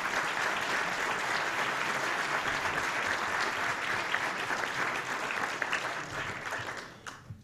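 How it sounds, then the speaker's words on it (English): Audience applause at a press club luncheon, steady dense clapping that fills the room at moderate level before fading out near the end. "And now please give them your round of applause."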